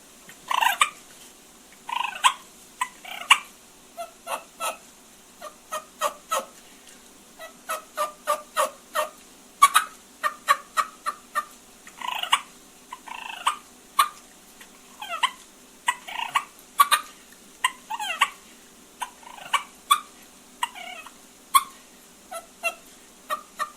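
A turkey call mimics a hen with soft, light purrs and a few light yelps. It makes a long series of short, rhythmic chirping notes, clear and close, with no voices.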